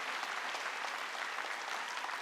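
A congregation claps together during a Wednesday evening church worship service, a dense, steady wash of many hands at a fairly distant, even level throughout.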